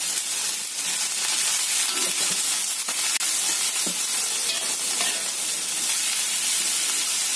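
Cabbage and mustard greens stir-fried in oil for fried kway teow make a loud, continuous hiss and sizzle, with a few soft scraping strokes of a spatula and no talking.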